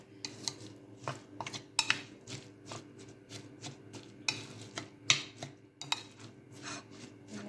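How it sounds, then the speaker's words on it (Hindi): A spoon stirs and scrapes red chilli garlic pickle in a pot: a steady run of close, sharp clinks and scrapes in an uneven rhythm, with no talking. "अच्छी तरह मिक्स करेंगे"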